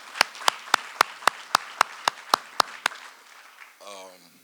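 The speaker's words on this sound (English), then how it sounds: "How about a round of applause for Mr." Hand clapping at a hall of fame induction ceremony: about ten sharp, evenly spaced claps, close and distinct, fading out with a brief voice at the end.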